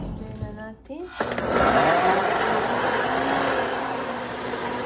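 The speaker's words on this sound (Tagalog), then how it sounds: "So, i-blend na natin." A blender whirs up to a loud steady grind, blending sugar, garlic and ginger for a kimchi paste, starting after a brief voice and continuing alone.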